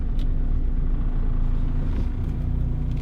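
Inside a manual-transmission car coming to a stop and shifting into neutral, a steady low engine rumble drones continuously and fairly loudly, with no voices.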